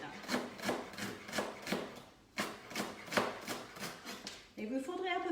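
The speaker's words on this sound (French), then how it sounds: "On va les tailler plutôt finement," Knife finely slicing leeks on a wooden board for vegetable galettes: about ten crisp, evenly spaced chopping strokes, close and fairly loud, ending with a brief voice and clatter.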